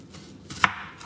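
A knife makes a single sharp chop through a small onion on a cutting board, quiet and close.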